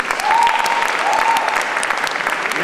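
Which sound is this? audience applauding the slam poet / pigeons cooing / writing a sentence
audience applauding the slam poet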